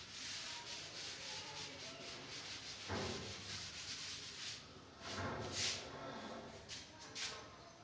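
Rubbing out chalk or marker writing on a classroom board during a Class 11 chemistry lesson: a steady, close scrubbing swish that continues throughout, rising in a few stronger strokes, with no talk.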